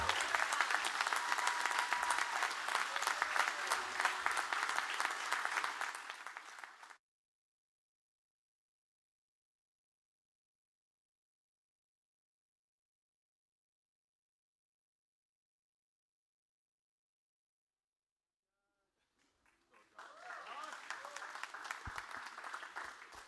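A crowd applauds loudly for several seconds, then falls silent, and the clapping returns near the end.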